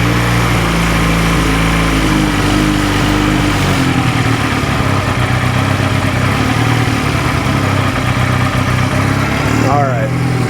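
A Honda Rebel 250 motorcycle that sat unused for eleven years idles a little high, a loud, close, steady engine drone that drops slightly in pitch partway through, with someone speaking over it.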